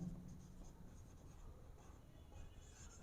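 Pen scratching steadily across paper while an accounting lesson on branch stock and debtors is written out, a continuous soft scraping close by with no voice over it.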